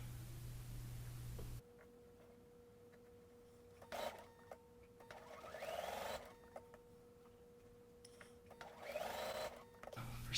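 Home sewing machine stitching a quilt block seam with pieced fabric right sides together, bursts of quiet whirring stitching separated by pauses and a faint steady electrical hum.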